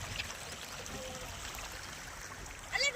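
River water flows steadily in a soft, continuous gurgling wash, fairly faint, with a brief splash near the end.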